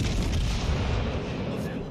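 Continuous low booming and rumbling from warship explosions and gunfire in the naval combat game World of Warships Legends, dense and sustained at steady loudness, with no clear pauses.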